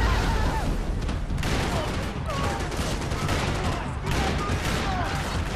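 Loud, dense shotgun and gunfire blasts in Max Payne 3, repeated heavy booms packed together in a chaotic firefight with scattered voice sounds underneath.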